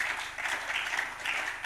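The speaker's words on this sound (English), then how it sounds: "Again, we deserve a round of applause." Conference audience applauding in a hall, a dense, steady wash of clapping that holds throughout with slight swells, fairly loud and close, with no voices over it.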